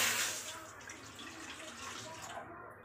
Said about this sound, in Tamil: அதே கடாயில் 1/4 லிட்டர் பால் சேர்த்துக்கலாம்.